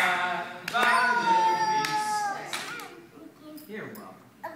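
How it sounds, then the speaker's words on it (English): Children clap their hands at a gym class amid a singing adult voice and kids' chatter, the claps sharp but partly buried under the song. "Clap your hands and sing along with me."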